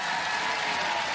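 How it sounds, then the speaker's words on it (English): A television studio audience claps for a combat robot on Robot Wars, a brief, dense wall of applause at steady loudness with no voices over it. "Ladies and gentlemen, a round of applause"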